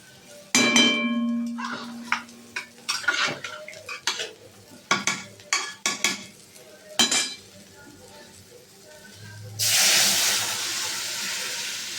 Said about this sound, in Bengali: এবার আমি ছোলার ডালটা দিয়ে নেব।